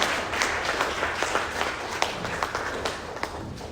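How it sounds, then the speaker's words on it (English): At a youth convention, the audience applauds open mic speakers with a continuous wash of clapping, sounding somewhat distant and muffled, with scattered louder claps and no speech. "Everyone, please give them another round of applause"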